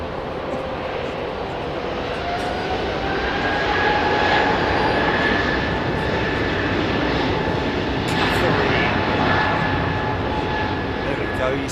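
An Airbus Beluga XL departs Heathrow Airport, its engines roaring in a loud, sustained rumble and whine that swells and holds, with people talking nearby.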